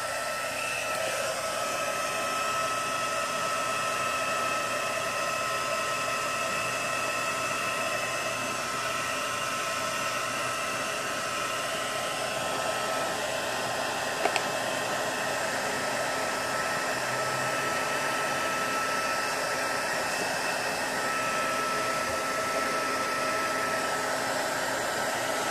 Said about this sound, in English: the heat gun's going to get really hot